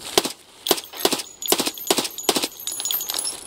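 Rapid gunfire in Escape from Tarkov, aimed at a sniper scav: about six loud, sharp shots spaced roughly half a second apart, ringing close and crisp with a faint tail between them and no talking.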